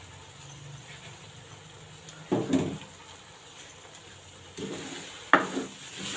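A spoon scrapes through an egg and pea curry seasoned with garam masala and fresh coriander in two brief stirring strokes against the pot, over a faint, low simmering hiss.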